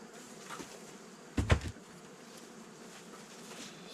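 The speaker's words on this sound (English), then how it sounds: "I hear bees, but I don't see them." Honey bees hum in an opened beehive with a plastic cover, a faint, continuous buzz interrupted midway by a brief thud and clatter as the hive parts are handled.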